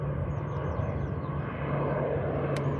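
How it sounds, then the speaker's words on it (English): A Logan Air ATR turboprop airliner climbs away from Liverpool John Lennon Airport toward the Isle of Man, a steady, droning engine roar heard from the ground with faint bird chirps above it. "So Logan Air ATR 76, that's now heading back to the Isle of Man."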